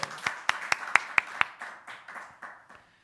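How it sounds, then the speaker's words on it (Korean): A church congregation at a Wednesday worship service claps in a rhythmic series of about a dozen sharp claps, strong and evenly spaced at first, then softer and more scattered as it fades. "박수."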